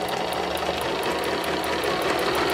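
A sewing machine stitches the seam of a pillow made from kitchen towels, running in one continuous close, steady burst with a fast regular needle rhythm throughout.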